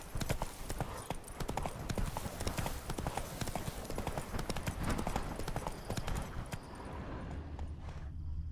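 Hooves of the horse Roach pounding at a steady gallop in The Witcher video game, a dense continuous clip-clop close by that thins out near the end.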